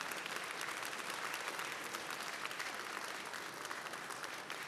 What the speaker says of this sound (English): give them a big round of applause for what they've done